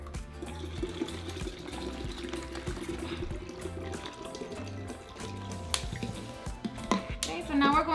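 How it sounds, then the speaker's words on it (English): About five cups of water pour into a jar for pineapple and mango agua fresca, a continuous gurgling stream that swells into louder splashing near the end. "in my jar, I'm going to add about 5 cups of water."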